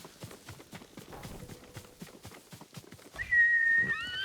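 A horse gallops in the video game Ghost of Tsushima: a steady run of close, rhythmic hoofbeats, then a brief high whinny-like tone rises near the end, with no talking.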